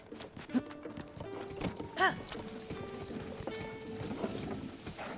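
Hooves of a golden horse in the video game Zelda: Tears of the Kingdom clip-clop in a steady rhythmic trot. A short whinny cuts in partway through, all under light game music.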